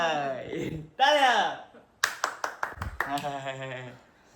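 A few hand claps at home in a kitchen, a quick irregular burst of about half a dozen sharp claps, set between stretches of close speech.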